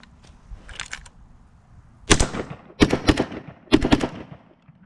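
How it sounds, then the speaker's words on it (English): AR-style rifle fired in a quick string of shots at an outdoor range, a burst of loud, sharp cracks after a quieter stretch, spaced unevenly as the shooter goes for speed over accuracy. "let's go ahead and try to get 5 rounds off fast"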